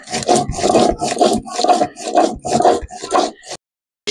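Garlic, ginger, chili and cumin being ground into a spice paste for chicken curry, heard as close, rhythmic back-and-forth rubbing strokes, about eight in quick succession, before stopping abruptly.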